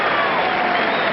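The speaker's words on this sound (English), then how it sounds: "Tom Gullickson applauding." Steady applause from a tennis crowd at the 1995 US Open, dense and continuous for the whole moment, loud and close with no pauses.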